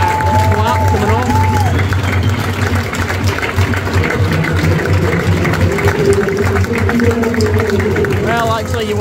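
A stadium crowd at an Ibrox football match claps and murmurs in a broad, continuous wash, with voices talking loudly nearby over the top of it.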